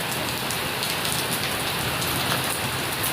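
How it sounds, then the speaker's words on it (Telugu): Steady rain falls heavily and evenly, a dense, continuous patter on surfaces close by with no breaks, thunder or voices. "మళ్ళీ వర్షం కొంచెం ఎక్కువ అయింది"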